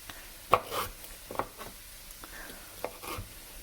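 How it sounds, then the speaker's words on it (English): A knife chops ginger on a cutting board in a home kitchen, a handful of irregular, light taps spaced apart, fairly close and soft over faint background noise. "let me cut the ginger"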